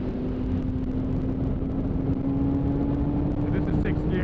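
A motorcycle in sixth gear pulls hard under steady, loud engine drone and wind rush, a constant tone holding throughout as a rider speaks over it.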